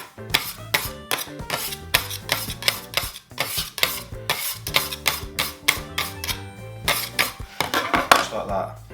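A metal bench scraper taps and scrapes against a tray while bread roll dough is shaped in a home kitchen, giving sharp, irregular clinks and scuffs close by, repeated steadily throughout.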